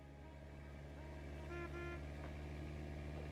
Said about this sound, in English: don't you honk at me